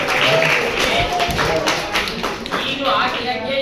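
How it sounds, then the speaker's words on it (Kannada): A seated audience at a talk on mothers breaks into brief applause, scattered claps rising and thinning over a few seconds, with a speaker's voice mixed in. "ಸಭಾ ನೋಡಿದ್ರೆ ಒಂದು ಚಪ್ಪಾಳೆ ಎಲ್ಲ ಸೇರಿ"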